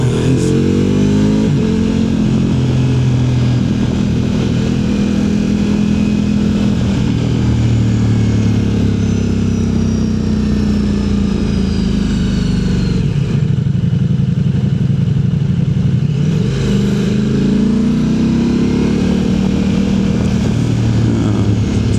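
A touring motorcycle on a road trip in Spain roars loudly and continuously as it accelerates and revs through gear changes, the engine pitch rising and falling, with wind noise close to the rider.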